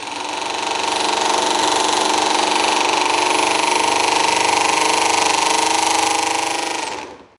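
A swash plate mechanism running at full throttle gives a loud, steady, high-pitched mechanical whine and buzz that holds constant for several seconds before quickly winding down at the end.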